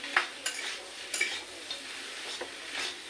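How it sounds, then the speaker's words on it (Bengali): Spice paste being stirred and fried in a pan, with a soft steady sizzle and several scraping strokes of a spoon against the pan over a few seconds; no one speaks. "মশলাটাকে পুরো সব দিয়ে দেবো, এবার আবার সুন্দরভাবে মশলা করবো।"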